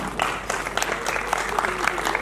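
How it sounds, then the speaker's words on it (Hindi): A crowd at an Amarnath Seva Mandal blood donation camp event in Karnal gives a round of energetic applause, with scattered sharp claps and murmuring voices mixed in. "एक बार फिर जोरदार तालियां"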